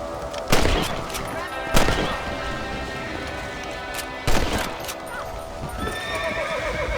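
Rifle shots in Red Dead Redemption, a few sharp cracks spaced seconds apart while horses whinny and hooves clop nearby, no talk.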